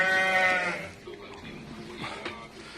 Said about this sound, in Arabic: ال6 نعجات اترصوا على العلف قدامكم.